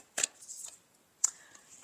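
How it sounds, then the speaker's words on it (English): Tarot cards being shuffled by hand give two brief, quiet riffling snaps about a second apart, soft and close in an otherwise hushed room. "while I'm shuffling"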